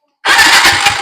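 A Yamaha Aerox scooter engine catches abruptly after a short silence and runs on loud and close, with a rough, slightly uneven idle.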